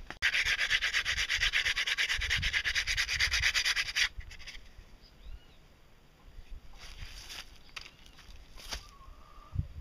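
Rapid, rasping sanding strokes scrub a fiberglass propeller loudly for a few seconds, then stop, leaving quieter scattered rubs and faint birdsong in the background.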